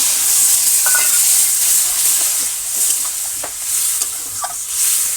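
Water poured into a hot frying pan in a village kitchen where egg curry and pumpkin-leaf greens are cooking, giving a loud, steady sizzle and hiss with faint stirring scrapes throughout.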